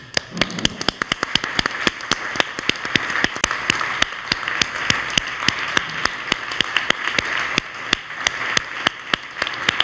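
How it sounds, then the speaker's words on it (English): A live audience claps at random, many sharp hand claps scattered and overlapping, then gradually drifting toward a shared rhythm, steady and fairly loud throughout with no talking. "I just want everyone to start randomly clapping"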